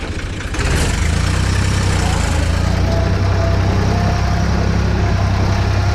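A New Holland TT46 tractor engine idles loudly and steadily with a deep, chugging rumble; a brief rustle comes before the engine noise settles in.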